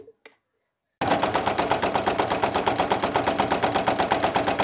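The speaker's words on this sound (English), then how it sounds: "Just sewing out the satin stitch now for the bow." A Brother single-needle embroidery machine stitching a satin stitch on a bow of pink holographic vinyl over minky fabric, a steady rapid mechanical chatter running close and loud after a second of near silence.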